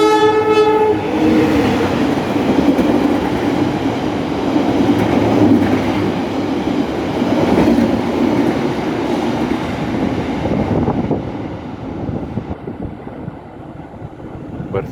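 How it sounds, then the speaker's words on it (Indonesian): The Mutiara Timur train passes through a station at night: a loud, close rumble of rolling wagons with a horn note at the start, steady clatter for several seconds, then slowly easing off. "Bersilang dengan kereta Mutiara Timur kalau nggak salah."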